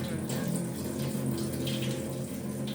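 Tap water runs in a steady, continuous stream close by, a constant rushing splash with no breaks and no one talking, in a kitchen where tender bamboo curry is being cooked.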